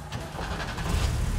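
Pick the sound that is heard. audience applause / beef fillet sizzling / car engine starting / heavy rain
car engine starting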